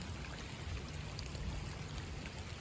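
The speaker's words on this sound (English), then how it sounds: "Water's coming down here, it's hitting the water bar and going off to the side exactly like it's supposed to." Water runs down a driveway and strikes a water bar, a faint, steady trickling wash with no clear breaks.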